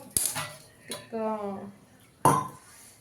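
A utensil knocks and scrapes against a pot of pulusu in a few sharp clinks as a mixture is stirred in, with a short stretch of voice between them.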